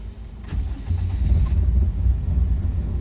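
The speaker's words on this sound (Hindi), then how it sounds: "गाड़ी हमारी स्टार्ट है। अभी हमने इसको ओरिजिनल तरीके से करना है।" A Toyota Corolla with a starting problem cranks and catches, then settles into a steady low idle rumble. The engine is close and fairly loud, and no one talks.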